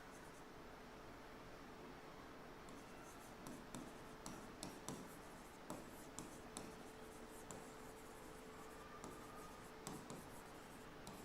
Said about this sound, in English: let me just write down the question for you.